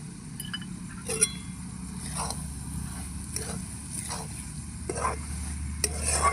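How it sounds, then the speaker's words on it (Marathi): Tomato chutney with crushed peanuts being stirred in a pan over a wood-fired stove, soft scraping strokes repeating every second or so over a low simmering sizzle, with a few light clinks. "आणि अर्धी वाटी शेंगदाण्याच कूट टाकूया आणि हलवून घेऊया"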